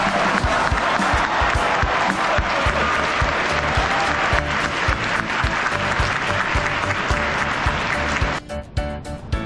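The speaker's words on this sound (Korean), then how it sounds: "재학생과 졸업생 학생회장 위해서 여러분들 뜨거운 박수 한 번 더 부탁드리겠습니다" An audience at a high school graduation ceremony in Korea breaks into loud, sustained applause, dense clapping from a large crowd filling the hall before tapering near the end.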